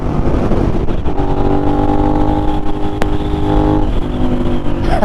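A Suzuki SV650 motorcycle engine pulls hard in fifth gear at highway speed on a night ride through New York City. The loud, steady engine drone rises in pitch as the bike accelerates, with rushing wind underneath.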